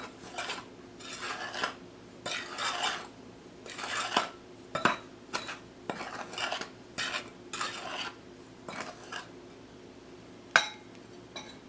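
A utensil stirs flour, baking powder and ground nutmeg for cookie dough in a bowl, giving a string of soft scraping strokes with occasional clinks against the bowl, close and fairly quiet.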